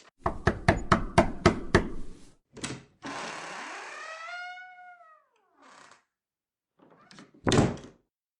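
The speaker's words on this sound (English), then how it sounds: "There's a knock at the door." A radio play sound effect gives a rapid series of sharp knocks at a door, then a couple of thuds. A cat-like meowing rises and falls, followed by a few quieter bumps and a final louder knock, with no talk.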